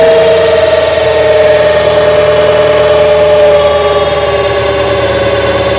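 A New Holland TL-90 turbocharged diesel tractor engine running loud and close at a steady high speed after its fuel was turned up, a constant droning roar with a whining turbo tone and no voices.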